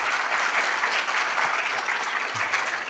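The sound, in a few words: round of applause for medical educators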